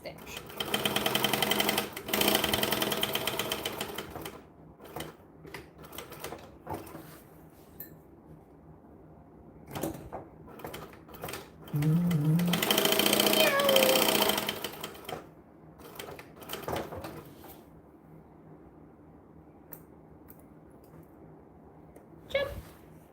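A domestic sewing machine stitches a bag in loud, rapid bursts of mechanical whirring, stopping and restarting several times, with quieter clicks and handling noises between runs and a person talking intermittently.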